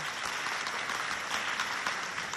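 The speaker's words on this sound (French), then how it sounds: "Applaudissez bien fort pour vous, s'il vous plaît." Steady, dense applause from a quiz-show audience cheering students from competing high schools, continuous and fairly loud for the whole span with no talk over it.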